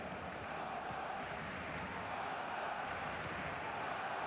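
Stadium crowd in the football video game eFootball, a Barcelona versus Arsenal match, gives a steady, dense roar of massed fans that holds at an even level throughout, with no distinct voices rising out of it.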